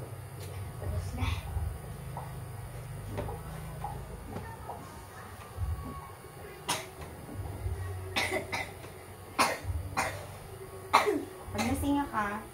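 Child coughing repeatedly indoors, scattered short coughs and throat clearing over several seconds, fairly faint, with a low background hum and brief voices.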